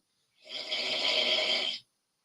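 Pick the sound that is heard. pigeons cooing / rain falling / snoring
snoring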